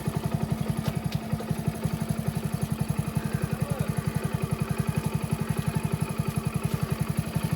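A motorcycle engine runs steadily throughout, its close, even, rapid low thump repeating with a faint clatter, no talking over it.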